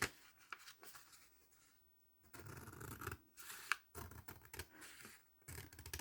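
Scissors snipping a folded paper bookmark for a journal craft, in a run of short, quiet, close cuts with brief pauses between them.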